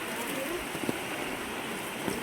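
Rain falling at Bhimashankar temple, a steady, even hiss with a few faint drips, and no voices.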